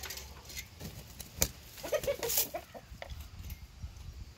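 Chickens being fed Cheerios cluck in soft, scattered bursts, close by, with a few sharper squawks and pecking sounds over a quiet outdoor background.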